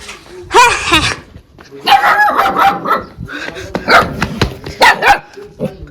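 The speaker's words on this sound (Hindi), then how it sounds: "मैं अभी अपने कुत्ते के पास जा रही हूँ।" A pet dog barks and yips in several close, loud bursts, with whimpering tones between them and no speech.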